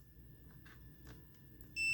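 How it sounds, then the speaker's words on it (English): A steady high electronic beep from a meter's continuity tester starts suddenly near the end and holds, after a stretch of low background rumble with faint clicks. "you get a beep"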